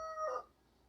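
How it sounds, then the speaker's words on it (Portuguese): Rooster crowing on a rural smallholding, one short, bright, strained call that cuts off abruptly partway through and leaves quiet room tone. "Desculpem aí, pessoal, o barulho, o canto do galo"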